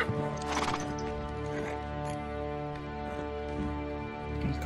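A horse neighs and its hooves clop in the video game Uncharted 3: Drake's Deception during a desert caravan chase, a loud whinny at the start over a steady droning game score.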